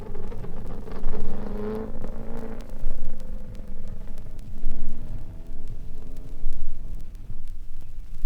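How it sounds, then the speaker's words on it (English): A factory Porsche race car stands at the pit rail of the Sebring circuit while its engine is revved, a broad rumbling roar that rises and falls in repeated swells against steady background noise. "One of the factory Porsches stands at the pit rail, and Count von Trips sits at the wheel, revving the engine"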